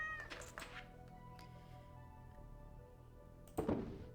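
A pet tabby cat in Stardew Valley meows, one soft meow near the start and another toward the end, over quiet background game music.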